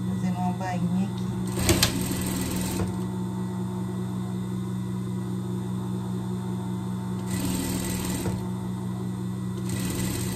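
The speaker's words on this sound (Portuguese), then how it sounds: "Uma vez pra dentro, outra vez pra dentro aqui. Fazendo uma bainha aqui." A sewing machine stitches a folded hem in bursts, its fast mechanical whir starting, stopping and starting again nearby, with a steady hum underneath.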